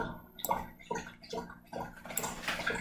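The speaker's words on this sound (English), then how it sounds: "My dog's about to drink a lot of water, so just hold tight." Dog lapping water in quick repeated gulps, a steady rhythm of wet splashy laps close to the microphone in a quiet workshop.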